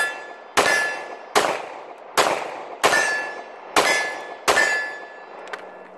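Glock 22 pistol fired six times at an even pace outdoors, each sharp loud crack trailing off in a short ring before the next.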